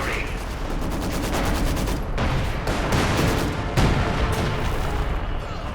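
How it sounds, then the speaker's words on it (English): Dense artillery and machine gun fire in a World War II strategy game, with rapid bursts and heavy booms crowding over each other in a constant, loud battle din, and a voice commenting over it. "a bit of artillery fire into the town centre as well"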